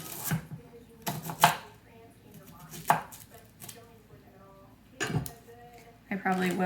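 Brussels sprouts are shredded with a knife on a board, sounding as close, crisp chopping taps in short bursts with pauses between them, and a voice speaks over part of it.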